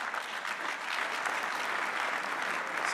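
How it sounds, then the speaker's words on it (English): An audience at a science forum breaks into steady, continuous applause, a dense wash of clapping that holds evenly throughout with no talk over it. "A round of applause for."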